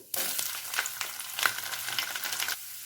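Steady, loud sizzling of chopped garlic and mustard seeds frying in hot oil in a kadai, crackling and spitting continuously for a couple of seconds before it eases off.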